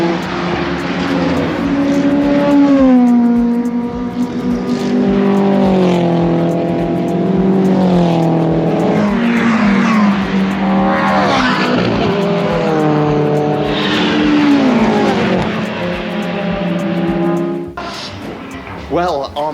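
Army sports car racing team cars lapping Donington Park circuit, engines rising and falling through gear changes as cars pass near and fade, loud and continuous, with a voice talking over the racket.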